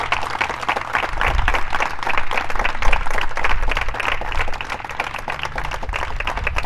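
A church congregation applauds during a Sunday sermon, a sustained wash of many hands clapping at fairly even loudness, with a faint voice beneath.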